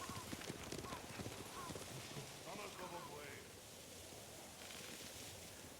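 Horses gallop in Ghost of Tsushima with a faint, rapid clip-clop of hooves, strongest early on, set in a wash of wind-like ambient noise and distant voices.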